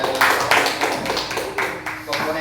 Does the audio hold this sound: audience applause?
yes